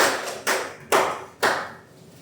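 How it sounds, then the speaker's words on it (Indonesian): Classroom clapping for two students in a school lesson comes as three sharp, separate claps spaced about half a second apart, each ringing briefly in the room, with no talk. "Beri tepuk tangan dulu untuk Sesti dan Winarto"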